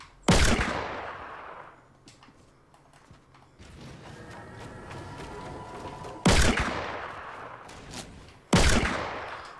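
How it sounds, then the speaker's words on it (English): Fortnite gunfire rings out as three loud, sharp reports, each with a long ringing tail. Between them comes quieter rattling and clatter. "Can you stop shooting at me?"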